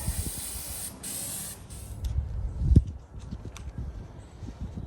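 Spray paint being applied to a jukebox cabinet in a workshop, a steady close hiss lasting about two seconds, then fading into quieter hissy bursts and faint bumps.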